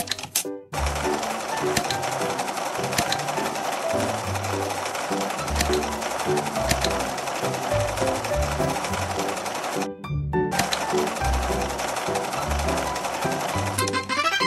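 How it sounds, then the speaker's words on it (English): A sewing machine effect from a fashion dress-up video game stitches a purse, a loud continuous mechanical whirring that stops briefly twice and then resumes. "Let's sew a purse."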